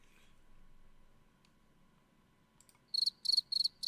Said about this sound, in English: Bunch of crickets.